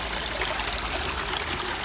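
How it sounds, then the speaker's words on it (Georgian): Water streams steadily beside a village church in Sakire, a continuous, moderately loud rushing trickle with no voices over it. "ეს ამდენი წყალი საიდან მოდის?"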